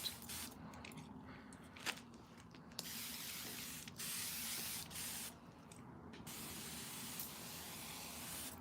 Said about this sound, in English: So now we're gonna spray again, because whenever we're using electricity, the most important part is to keep everything very moist.